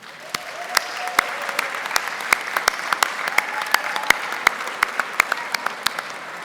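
Graduates at a 2022 commencement ceremony give a round of applause, a loose scattering of distinct claps, some close and sharp, over a softer crowd clapping background, steady for several seconds.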